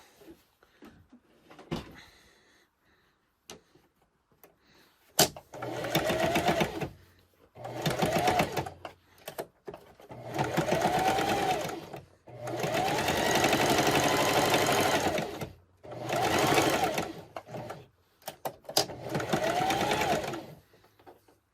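A sewing machine stitches trim onto a fabric dish drying mat in several bursts of whirring, each a couple of seconds long, separated by short pauses and faint handling noises.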